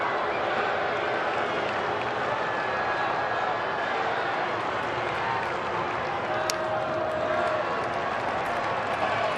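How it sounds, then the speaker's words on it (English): Phillies fans at a baseball stadium game against the Washington Nationals, a steady distant crowd roar with scattered clapping and cheering, constant and moderately loud, with faint talk in the mix. "Philly fans making some noise"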